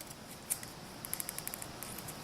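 Scissors cut away the paper ends for a handmade baby card, a faint, quick series of small snips close by in a quiet room.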